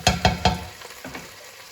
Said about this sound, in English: I'm going to give these guys a little stir